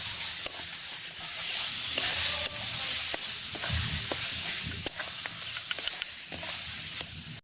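Cumin powder, Kashmiri chili powder and turmeric sizzle in hot oil for meat khichuri: a loud, continuous close frying hiss with scattered small clicks of a spoon against the pot.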